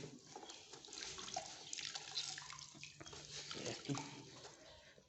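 Water running from a tap as a sponge is wetted for finishing a burnt-cement subfloor, a steady splashing flow close by with small drips, heard alone.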